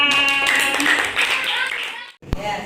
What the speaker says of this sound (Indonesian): Tepuk tangan untuk Revan